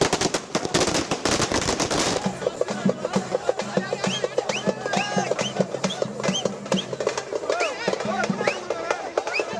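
Dense, rapid crackle of firecrackers bursting during a DMK victory celebration in Tamil Nadu after the Erode East by-election, loud and continuous, with crowd noise and voices beneath.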